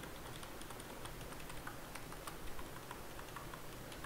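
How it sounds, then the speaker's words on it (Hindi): Continuous typing on a low-profile membrane keyboard with round keycaps, a steady stream of soft, quick key clicks close to the microphone with no talking. "तो अभी मैं कीबोर्ड में आपको कुछ टाइप करके दिखाता हूँ एंड टाइप करते वक्त कैसी साउंड आती है वो भी आप साथ में सुन सकते हो।"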